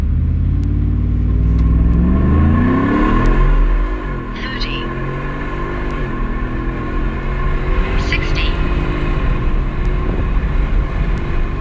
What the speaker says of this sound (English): We gotta do some draggy runs now.